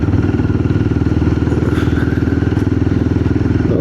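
A Royal Enfield Guerrilla 450 single-cylinder motorcycle revs hard and close, its rapid thumping exhaust pulses loud and steady as it pulls through the gears, with a short dip in pitch at a shift.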